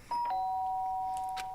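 A two-tone doorbell chime from the game Danganronpa: Trigger Happy Havoc rings once, clear and close, its tones holding and slowly fading with no voices over it.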